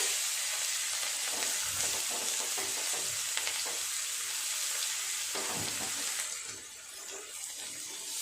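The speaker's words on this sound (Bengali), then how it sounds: "খুব ভালো করে পেঁয়াজটা ভাজা করে নেব।" Chopped onion frying in oil with whole cumin, a bay leaf and dried red chillies, a close, continuous sizzle with stirring scrapes and clinks throughout, easing slightly near the end, no talk.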